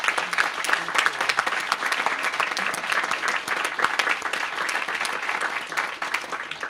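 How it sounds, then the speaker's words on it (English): Sustained applause from a crowd, dense and steady clapping at moderate loudness throughout, with no voices rising above it. "So a round of applause for Jennifer."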